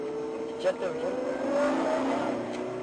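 A semi-truck engine with a trailer hums steadily at low revs while backing up in a video game, with a faint rising whine and a voice briefly heard over it.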